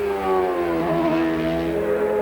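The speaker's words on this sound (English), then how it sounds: "maybe we can hear the engine now. That is not how a Toyota RV8F engine should sound" A Toyota RV8F engine in an Indy race car at the 2002 Montreal race, sounding wrong, gives a steady droning roar with a wavering pitch, loud and unbroken.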